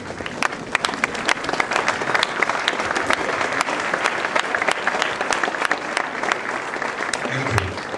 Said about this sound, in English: we can stand and welcome him with a clap